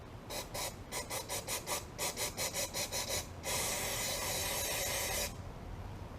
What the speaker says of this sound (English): we're going to spray it all down